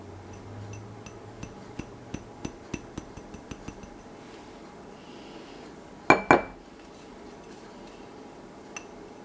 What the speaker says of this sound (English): Make sure we get all of that cornstarch out, because that is going to help thicken the sauce later